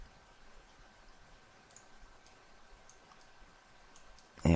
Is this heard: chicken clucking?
no